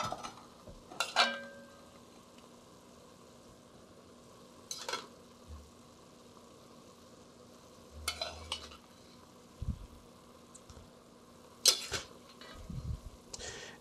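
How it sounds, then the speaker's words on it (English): Browned meat filling for stuffed peppers being spooned from a pan into a bowl: scattered scrapes and light clinks of a spoon against metal and crockery every few seconds, over a quiet kitchen background. "So let me just spoon it out into a bowl."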